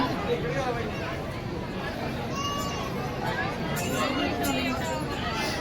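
Dense crowd chatter fills the darshan queue at Tuljabhavani temple in Tuljapur, a steady close babble of many overlapping voices with occasional louder calls rising above the murmur.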